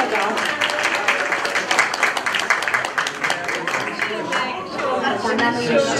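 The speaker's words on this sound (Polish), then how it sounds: "Duże brawa. Duże brawa." An audience claps steadily at a Christmas Eve gathering, with sustained dense applause and some chatter mixed in, while a host's voice speaks over the clapping.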